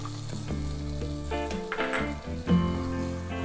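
Thick carrot halwa sizzles in a pan while being stirred, with a steady frying crackle and occasional scraping of the spoon, no talking.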